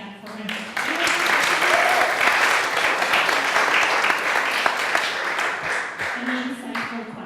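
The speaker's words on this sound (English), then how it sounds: "Let's clap it up again, yeah, for him." Audience applause at a talk on starting a company, full sustained clapping from a crowd lasting most of seven seconds, with a voice heard faintly at the start and end.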